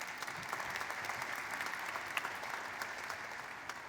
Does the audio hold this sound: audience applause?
yes